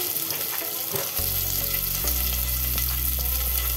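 Onion, garlic and chillies fry in hot oil in a home kitchen for dal fry, making a loud, continuous close-up sizzle with occasional stirring scrapes and no talking.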